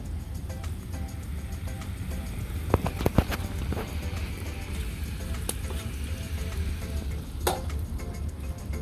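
Green garlic, cabbage and other vegetables for Kathiyawadi khichdi fry in a pan with a steady, moderate sizzle. A few sharp ticks of a utensil against the pan break in now and then.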